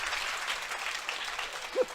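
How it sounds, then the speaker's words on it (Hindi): Applause from an audience at a Marwari comedy poetry show, a brief burst of clapping at moderate level with a faint voice rising near the end. "एक बार जोरदार तालियां बजाइए।"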